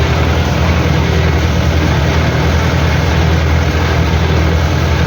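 A SIPMA Z-224/1 hay baler works behind a tractor in a hay field, its piston driven back and forth under a loud, steady low engine drone, close and continuous with no talk.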